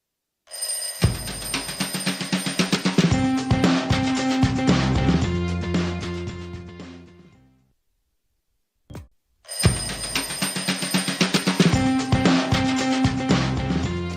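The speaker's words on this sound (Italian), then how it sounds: "c'è una telefonata in linea" A telephone rings loudly and clearly in a TV studio, announcing a caller on a local Italian morning talk show; a dense burst of ringing runs for several seconds, stops, and after a short gap a second burst begins.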